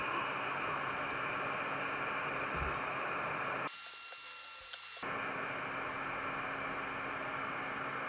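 A hot air rework station set to 200 degrees at half airflow blows across an LGA1200 CPU socket, a steady broad hiss with faint hum that drops out briefly mid-clip before resuming, no talking.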